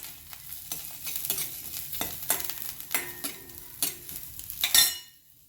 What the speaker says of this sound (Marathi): आता यामध्ये आपण काजू बदाम हे मी कट करून घेतलेले आहे ते घालून घेऊया. हे 1 मिनिट आपण त्याला छान फ्राय करून घेणार आहोत.